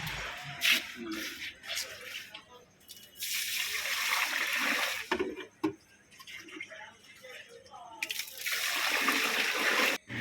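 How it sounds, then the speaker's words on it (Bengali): Rice with dried plums and raisins washed by hand in water, splashing and trickling in bursts with soft ticks, under light talk in a busy cooking setting. "চালের মধ্যে আলু বোখরা এবং কিশমিশ দিয়ে ভালো মতো ধুয়ে ভিজিয়ে রাখতে হবে"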